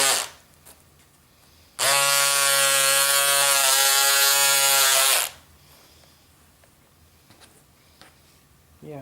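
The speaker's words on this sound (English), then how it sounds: "So I will use the electric scissors for the top layer" A steady electric motor whine from electric scissors cutting the top layer of fur fabric starts abruptly, buzzes loudly for about three and a half seconds, then cuts off, leaving quiet room noise.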